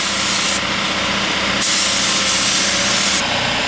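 Spray gun laying a second coat of darker metallic royal blue onto wheels, a loud continuous airy hiss broken by brief pauses between passes, with no talking.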